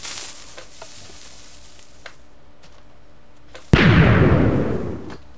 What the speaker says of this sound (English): And now you're ready to use your TNT cannon.